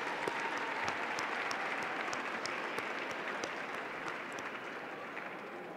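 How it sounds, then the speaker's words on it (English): A round of applause from the crowd at a New York youth benefit evening, a steady, fairly distant mass of clapping with a few crisp nearby claps, fading gently toward the end. "Can we give them a round of applause, please?"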